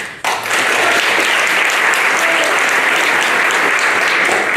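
Diners at a KMS gala dinner break into applause during the honoring of youth honorees. After a brief quiet moment, loud, dense clapping from a large room swells up and holds evenly to the end.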